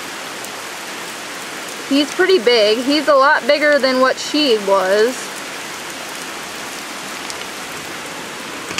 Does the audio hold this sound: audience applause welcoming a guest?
no